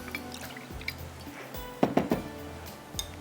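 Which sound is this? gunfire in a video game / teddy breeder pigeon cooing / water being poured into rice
water being poured into rice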